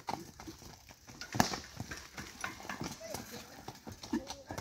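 A ridden horse's hooves clip-clop in a steady uneven patter on the ground, moderately near, mixed with people talking nearby.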